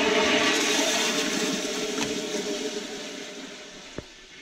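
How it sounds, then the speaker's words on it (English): A lever-operated toilet in a man cave flushes with a steady rush of water that slowly fades, and a sharp click sounds near the end. "Flush is right here."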